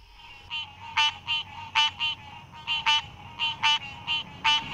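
A green tree frog (Hyla cinerea) calls at a pond in a run of about a dozen sharp, nasal honking notes, close and clear over a quiet background.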